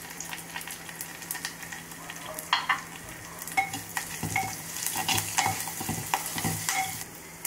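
Asafoetida drops into hot oil as a tempering for Andhra-style mango dal, a soft steady sizzle that grows busier with repeated scraping stirs of a spoon against the pan.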